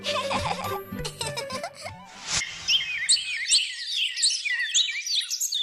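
A parrot-like bird chatters and whistles in a rapid run of high, warbling calls, busy and fairly close, with some squawky bursts early on.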